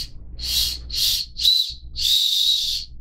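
A fire flute whistle from a survival kit is blown in four short breathy toots, the last one longer, with an airy, weak whistling tone at close range.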